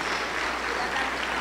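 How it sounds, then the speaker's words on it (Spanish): A church congregation breaks into applause for Jesus after a healing testimony, steady dense clapping filling the room without pause and fairly loud. "Aplauso para el Señor Jesús"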